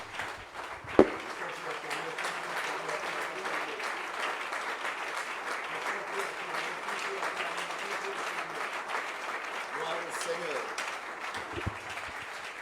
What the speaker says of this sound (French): Est-ce qu'on peut monter dans les acclamations?